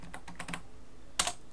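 Quick keystrokes on a computer keyboard entering text, a short cluster of light clicks followed by a pause and a sharper final pair of taps, close and clear with no voices.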